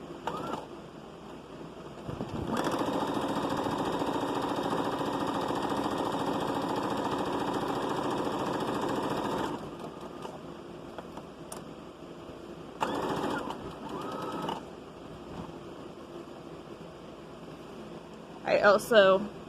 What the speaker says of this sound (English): you're going to sew this and you're going to backstitch at the beginning and the end